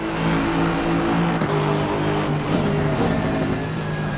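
An Aston Martin GT3 race car in Assetto Corsa Competizione roars at steady high revs, a loud, continuous engine drone with a slight pitch rise, heard alone.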